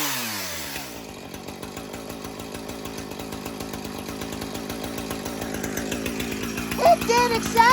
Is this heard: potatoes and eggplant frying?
no